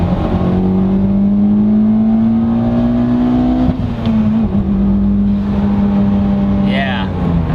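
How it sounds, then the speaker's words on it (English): A 2012 Mitsubishi Evo X GSR with an aftermarket APS twin vent blow-off valve, engine droning loudly under boost while merging onto a freeway, then lifting off with a brief hiss near the end. "he's also added an aftermarket blow-off valve, and it's an APS twin vent, and that thing absolutely screams"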